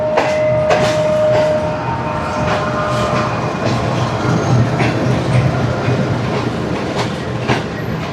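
The Karakoram Express, led by G40 locomotive 9006, rolls past close by in Pakistan with a steady loud rumble and rhythmic clickety-clack of wheels over rail joints, a brief whistle-like tone early on.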